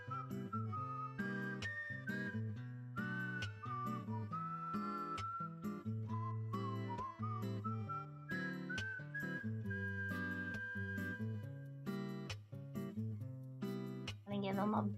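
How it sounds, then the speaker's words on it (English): Someone in a livestream crowd whistles a long, wavering tune, thin and somewhat faint, riding over a busy background of music and chatter throughout. "Guy's trying his best to whistle and I appreciate him."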